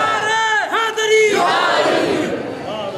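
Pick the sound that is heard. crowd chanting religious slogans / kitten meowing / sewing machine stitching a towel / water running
crowd chanting religious slogans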